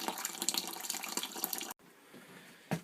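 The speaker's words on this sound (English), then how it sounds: "I'm going to add the water very carefully" Water pours from a two-litre measuring container into a mash tun for brewing pale ale, a close splashing rush that stops abruptly partway, leaving quieter trickles before a brief final splash.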